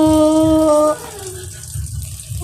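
Broth poured into a pot of sticky rice being cooked for a big celebration, a soft watery splash and trickle heard after a brief tonal sound at the start, then continuing faintly.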